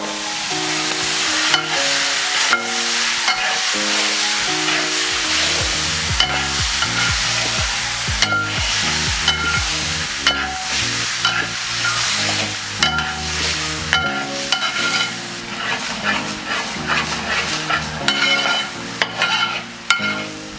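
Cooked taro stems and tapioca are stirred into a pan with chilli powder for a Kerala-style stew, a steady sizzle with scraping stirs running continuously under backing music, with no talking.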